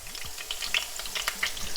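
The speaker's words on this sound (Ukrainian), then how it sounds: "тепер другу сторону я просмажую трішки довше, тому що тут м'ясо" Meat and potato patties frying in a pan with a soft, steady sizzle and occasional crackles and light scraping.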